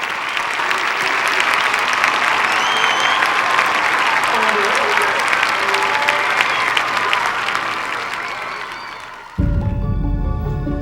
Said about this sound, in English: The crowd applauds and cheers the brave men as they step down from the palanquins